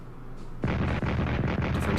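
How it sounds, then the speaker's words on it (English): Defensive artillery fire in the wartime strategy game Strategic Command: a sudden loud salvo breaks in after a quiet start, then rolls on as a rapid series of booming blasts. "Defensive artillery."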